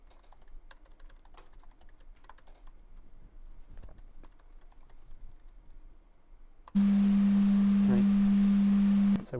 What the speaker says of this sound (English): if you add a sine wave with pink noise, you'll just hear both of those at the same time